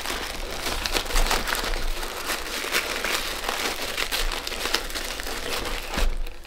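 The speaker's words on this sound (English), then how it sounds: "I have to fold this invoice different so that it'll fit in there" A paper invoice is folded and creased up close, producing a steady stream of crisp crinkling and rustling with occasional sharper crackles, continuous and fairly loud throughout.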